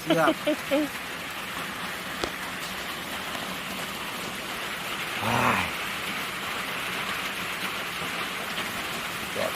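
Rain pours steadily in a forest near a small hut, a continuous hiss of drops on foliage, with a brief voice near the start and another midway.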